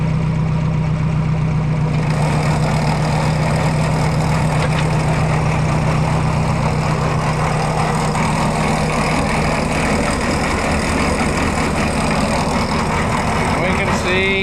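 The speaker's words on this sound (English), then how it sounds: "We can see our shaft spinning along the side, going into our gearbox and turning our bottom beater" An Oliver 471 manure spreader running, its drive shaft turning the gearbox and bottom beater, gives a steady loud mechanical drone and rumble with a rising whir partway through, heard close.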